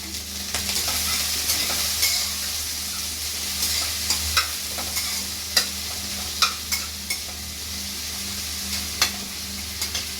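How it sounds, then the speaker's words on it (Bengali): Onions frying in a pan while being stirred: a continuous close sizzle with a low hum beneath it, broken by repeated sharp scrapes and clicks of the spoon against the pan, no voices. "পিঁয়াজটা দিয়ে এবার একটু নাড়িয়ে চাড়িয়ে নেবো"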